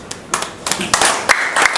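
An audience applauds, a brief, fairly loud patter of clapping hands that swells and stays steady to the end.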